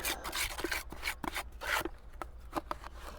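Wet mortar is rubbed and scraped onto roof tiles during a roof repair, producing short rough rasping strokes in an irregular rhythm, close by and fairly loud.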